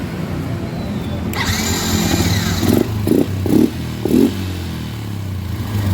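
A Yamaha Jupiter MX motorcycle engine runs at idle with a steady mechanical drone, then a few sharp revving bursts rise and fall, close and loud.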